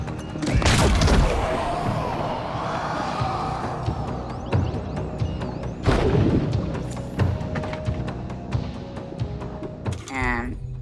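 Explosions in the video game Death Stranding 2, heavy booms and crashes including an underwater blast, loud and dense with several sharp impacts over a rumbling game soundscape, with a voice talking faintly underneath.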